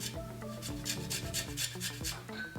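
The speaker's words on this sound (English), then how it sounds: "I've washed and rinsed my lime. So I'm just going to grate it over like so." A lime rasped against a grater for zest, quick repeated scraping strokes in a steady rhythm, close and fairly quiet, with no talking.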